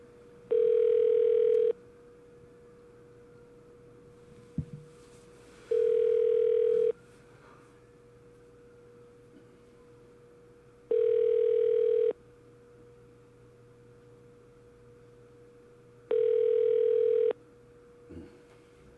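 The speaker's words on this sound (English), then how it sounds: "They probably don't even hear the phone ringing anymore." A steady ringback tone from an outgoing call to a busy call center repeats four times, each about a second long with long silent gaps between, clear and close, with a couple of soft clicks.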